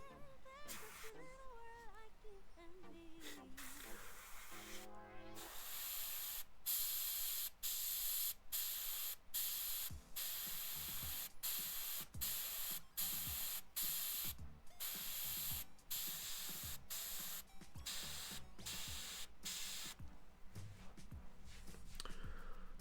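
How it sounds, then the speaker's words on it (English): An airbrush sprays paint onto a Kingdom Death miniature in repeated short bursts of airy hiss, steady and close, separated by brief pauses, with a ratcheting click from the trigger. "I can just go back with my airbrush and tune it down a little bit"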